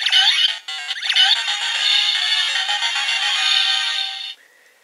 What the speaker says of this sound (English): And there is the game clear sound.